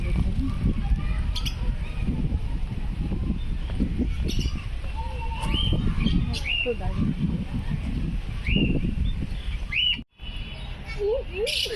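Birds calling overhead in Suryasen Park, Siliguri: scattered chirps, squawks and short tweets at moderate distance over a murmur of nearby voices and outdoor background noise.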